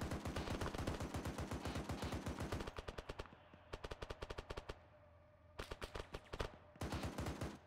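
Rapid automatic gunfire in a video game, fast rhythmic bursts of shots, first a long run, then shorter bursts separated by brief pauses, loud and close with no talk.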